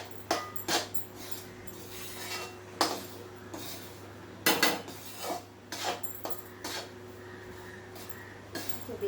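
Wheat flour roasting in a pan for gond laddu, stirred with a spoon: irregular scraping strokes and occasional knocks against the metal, close and moderate, with a low steady hum underneath.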